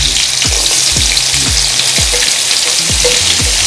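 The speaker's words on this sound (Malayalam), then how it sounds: "ഇനി നമുക്ക് അവസാനമായിട്ട് 1 സവാള അരിഞ്ഞത് ഇട്ട് കൊടുക്കാം." Chopped onion, added after sliced chilli, fries in a pan for an egg dish, giving a loud, steady, close sizzle broken by regular low knocks of stirring about every half second, with no talk.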